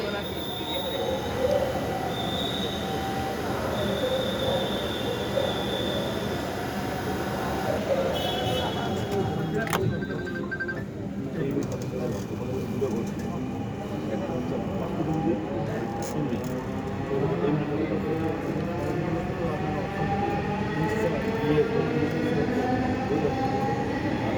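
Dhaka metro train bound for Uttara North rumbling steadily along the line, a constant low roar of wheels with faint squeals and a few brief tones, as heard from inside the carriage, with faint voices in the car.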